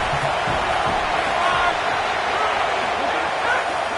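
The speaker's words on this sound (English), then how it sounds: "Now this home crowd making life difficult." Home crowd at a football game, a constant wide roar of thousands of spectators with scattered whoops, steady and loud for the whole stretch.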